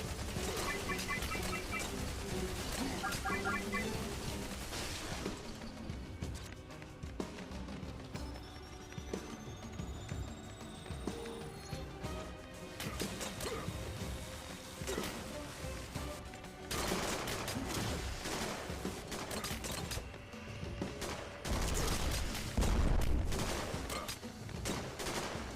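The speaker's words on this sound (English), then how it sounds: "Let's reactivate this turret while I'm getting shot." Gunfire in the G.I. Joe Operation Blackout video game, sustained rapid bursts and fusillades mixed with game effects and music, continuous and dense throughout.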